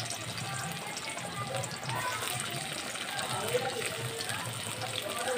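Chopped onion sizzles and crackles steadily in a pan on a home stove, a faint continuous frying hiss with someone talking over it.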